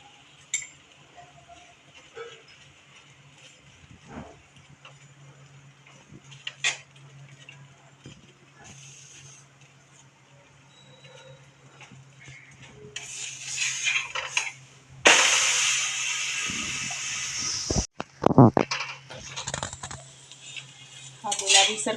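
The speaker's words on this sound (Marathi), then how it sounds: "दोन्ही साईडला बटर लावून छान भाजून घेऊया." Mixed vegetable paratha roasting with butter on a tawa, with faint sizzling and scattered metal clinks of a spatula, a louder burst of sizzle and scraping midway, then intermittent clatter near the end.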